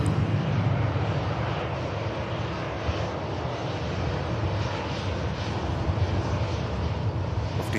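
Airliner taxiing past at Manchester Airport, a steady broad engine roar with a high whine holding at constant loudness throughout, fairly close with no talk over it.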